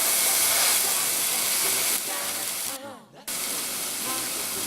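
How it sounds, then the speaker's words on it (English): Beef for barbacoa sears in a hot pan with a loud, steady broadband sizzle and hiss that briefly dips and cuts out as the meat shifts, then resumes close by. "I sear it off first just to get good brown on the outside."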